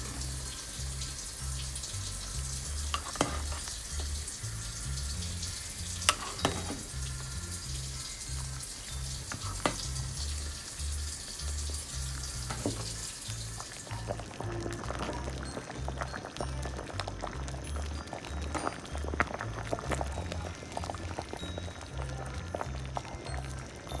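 Jamaican chicken foot soup boils in a covered pot, a continuous watery bubbling and simmering hiss with a low, pulsing rumble underneath.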